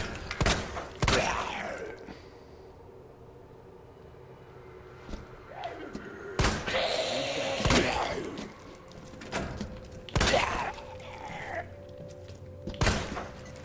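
Gunfire in Resident Evil 2 (2019) comes as several sharp, loud shots and short bursts spread through a stretch of quieter game ambience, close and punchy, with no talking.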